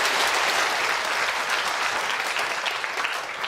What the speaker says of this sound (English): big round of applause for Abel.